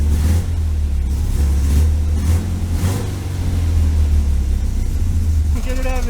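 A 1973 VW Super Beetle engine idling in a garage after months unused, a steady loud low rumble with slight rises in pace, close by, with someone talking over it.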